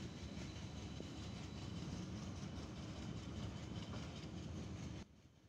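The Sirajganj Express on the Sirajganj–Dhaka line in Bangladesh runs into Tangail station with a close, steady rumble and rattling clatter of its carriages, holding level until it cuts off abruptly near the end.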